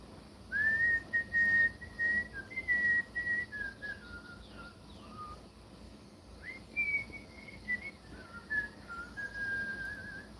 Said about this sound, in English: Here, I'll whistle one to you.